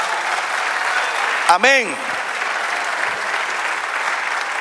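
A church congregation keeps up steady, even applause throughout, with a voice briefly calling out over the clapping.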